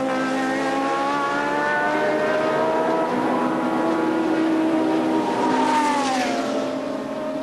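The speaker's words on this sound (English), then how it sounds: "Back on the track, Piquet raced on towards the beckoning halfway mark" A 1982 Brabham Formula 1 race car at speed, its high-pitched engine note loud and sustained with harmonics rising and falling as it shifts and accelerates, alone with no talk.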